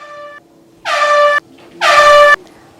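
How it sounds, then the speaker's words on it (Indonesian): Two loud, bright brassy blasts of about half a second each, with a steady low hum between them, playing alone as an example of a trumpet sound. "Itu adalah bunyi trompet."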